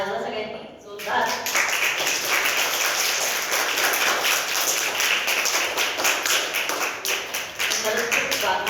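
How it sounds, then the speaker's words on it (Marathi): A crowd of children at a meditation session claps loudly and steadily for several seconds, a dense, sustained patter of hands close by, with a voice speaking briefly before it begins. "टाळ्या वाजवा सगळ्यांनी जोरदार."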